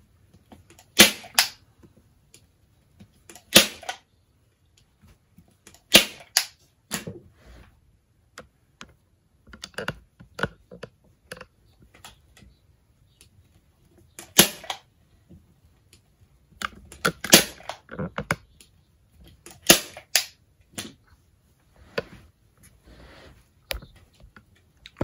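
Staple gun driving staples through upholstery fabric into a footstool frame, sharp snapping clacks fired in small bursts of two or three, close and loud, separated by quiet pauses and faint handling.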